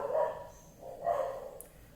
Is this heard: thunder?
no